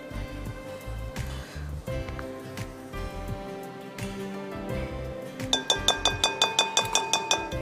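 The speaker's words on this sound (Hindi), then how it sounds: "take your spatula and remove everything, सब कुछ बोल में से लीजिए ताकि कोई चीज़ ज़ाया नहीं हो" Spatula scraping an ice cream mixture for cookies and cream out of a glass bowl: soft scrapes, then a quick run of bright, regular clinks as the spatula taps the glass rim.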